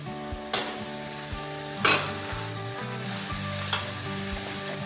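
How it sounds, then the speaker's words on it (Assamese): Chicken pieces sizzle steadily in hot oil in a curry pot with banana stem, while a spoon stirs and scrapes, giving a few sharp clanks over the constant frying hiss. "এতিয়া মই ইয়াত চিকেনখিনি দি দিম।"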